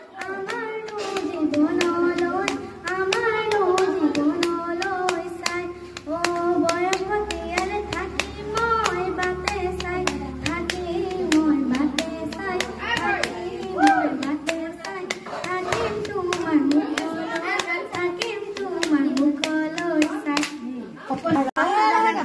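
Steady rhythmic hand clapping from a small audience at a Bihu feast keeps time under two young girls, Gungun and Bidisha, singing a song together, close and continuous throughout.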